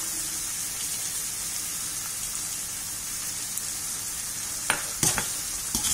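Tomatoes and chicken cook in a pan for Chettinad chicken curry, giving a steady, even sizzle that holds throughout, with a few brief stirring clatters near the end.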